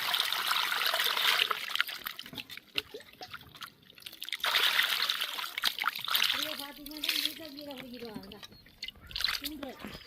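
Water is poured and splashes in uneven bursts close by, while a person talks over the trickling.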